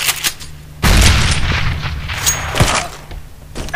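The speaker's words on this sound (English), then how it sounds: "Grenade!" A Counter-Strike grenade explosion booms with a sharp onset, followed by scattered gunshots and rumbling blasts that stay loud and close, with no talk.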